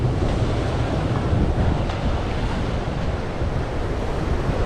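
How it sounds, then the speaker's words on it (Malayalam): Surf at Rock Beach in Pondicherry gives a steady, close, rumbling roar of waves, heavily mixed with buffeting wind noise on the microphone. "റോക്ക് ബീച്ച് എന്ന് പറഞ്ഞൊരു ബീച്ചിലേക്ക് പോയിക്കൊണ്ടിരിക്കുകയാണ്"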